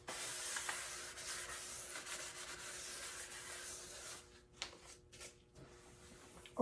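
Wood being sanded by hand during restoration ahead of a French polish finish: a steady, close abrasive rubbing that runs continuously for about four seconds, then gives way to a few brief scattered scrapes and quieter pauses.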